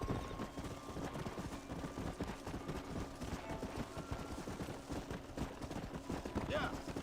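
A horse's hooves clip-clop in a steady rhythm in a video game during a horse-wrangling mission, quiet and low in the mix alongside other faint game sounds.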